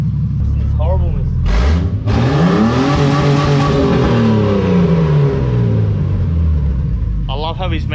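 Car engine running through its exhaust, a loud close rumble that revs up and falls back in sweeping pitch changes, with voices heard at the start and end.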